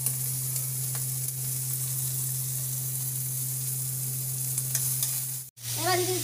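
Prawns sizzling steadily in a hot pan, with the close frying hiss running over a low hum before a brief cut-out, then a faint tonal sound near the end.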